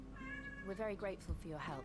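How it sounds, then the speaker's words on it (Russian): A cat meows in Final Fantasy XVI on PS5, its rising, wavering cries mixed in with a character speaking dialogue over quiet background sound. "Вы слышите, как она мяукает, да?"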